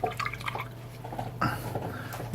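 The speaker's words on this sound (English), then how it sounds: "wash out this brush" Paint brush swished and rinsed in water, with quick sloshing drips and splashes close by, fairly loud, no talking over it.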